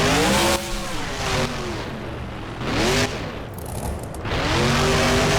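A monster truck in the BeamNG driving game revs its engine hard in repeated rising and falling surges, loud and close with a roaring, slightly squealing tone.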